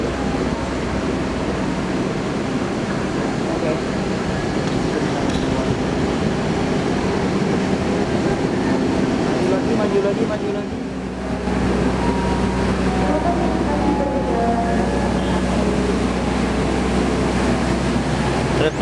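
KA Maharani stainless steel passenger train standing at a station platform, a steady loud low rumble and hum of the train throughout, with a brief dip midway before resuming.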